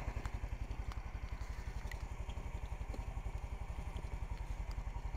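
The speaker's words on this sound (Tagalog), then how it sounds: "Kailangan natin painitin yung motor." A motorcycle engine idles while warming up before a ride in Cavite City, a steady, rapid low putter that is fairly faint and close, with no talking over it.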